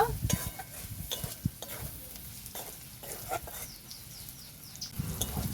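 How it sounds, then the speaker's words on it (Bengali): Onions frying in a pan, heard as a soft, fairly faint sizzle with a few stirring scrapes and clicks, some faint chirps far off in the background. "পেঁয়াজটাকে আমি লাল করে অল্প ভেজে নেব।"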